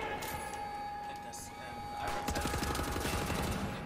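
MP5 submachine gun fire in Wolfenstein, starting after a quieter stretch with a steady tone and brief mechanical sounds, then rapid automatic bursts for the last second and a half.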